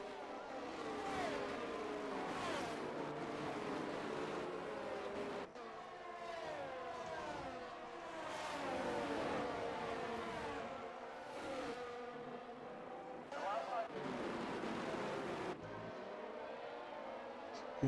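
Six to eight race cars driving close together in a Formula 1-style racing game at an Australian round, with several overlapping engine whines that rise and fall as they rev and shift, steady and continuous.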